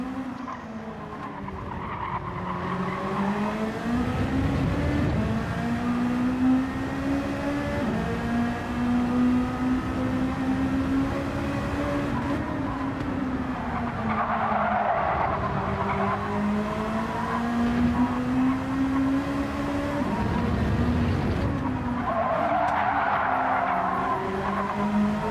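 A tuner race car drifts during the 2025 ATK 3x3 Tuner Race, its tires squealing loudly in long, wavering skids that rise and fall over a steady engine drone, with several separate slides and no voices.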